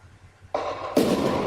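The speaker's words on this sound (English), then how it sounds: "And then there was an explosion." Explosion sound effect: a sudden loud blast hits after a quiet start, then a second heavier burst follows as a dense, roaring wash that carries on to the end.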